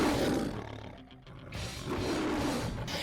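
A lion gives a deep, rumbling roar up close, followed by a short pause and a second long, powerful roar, with no voices.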